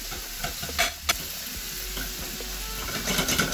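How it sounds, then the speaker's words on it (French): Shallots sizzle in a small saucepan while being sautéed for a sauce, a steady close frying hiss with occasional stirring scrapes and clicks of a utensil against the pan. "Je vais revenir de l'échalote 2-3 minutes."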